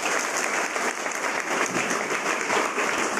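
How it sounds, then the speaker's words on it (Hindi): An audience claps continuously, a full, even wash of applause holding steady without pause. "एक बार और ताली मारना।"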